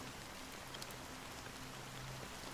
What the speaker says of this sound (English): amidst the fine drizzle of black rain